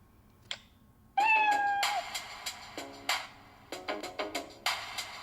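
A cartoon cat meow sound effect from the Scratch 2.0 programming environment rings out clearly, followed by several short plucked or tapped musical notes in an uneven rhythm, with no talking.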